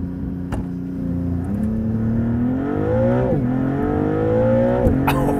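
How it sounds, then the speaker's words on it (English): Maserati MC20 rear-wheel-drive supercar launching in Corsa mode with traction control fully off: loud close engine roar climbing through the revs, with sharp hard gear shifts interrupting the rise. "All right, let's try launch in sport mode."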